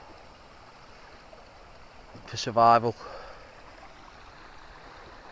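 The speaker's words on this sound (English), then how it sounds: "And there you have running water." A stream in the Snowdonia countryside runs with a steady, close rushing of water throughout, briefly overlaid by someone speaking in the middle.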